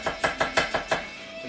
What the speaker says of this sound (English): I want to slice these onions nice and fine now for the onion gravy